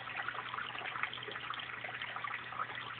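Steady rushing, trickling water drains continuously through a bell siphon in a small aquaponic system, like a toilet finishing its flush, with a low hum underneath and no voices.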